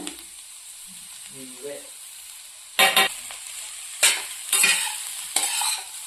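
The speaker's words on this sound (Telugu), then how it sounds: "ఇది కూడా చక్కెర కరిగి మంచి క్యారెట్ పట్టే వరకు అయితే ఫ్రై చేస్తున్నామండి" Grated carrot and sugar frying in ghee for carrot halwa, stirred on medium flame: a quiet opening with a brief low tone, then several loud, bursty scraping stirs across the pan over a soft sizzle.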